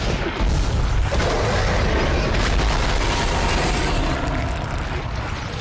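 A contact gun fires in the video game Dead Space, producing loud, heavy booming blasts that fill the whole stretch with dense, rumbling noise.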